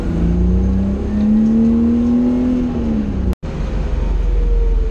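A Porsche race car at a Porsche Club Days circuit event accelerates away with a warm engine, its rising, droning note climbing then falling back over a steady road roar, with a brief cut partway through.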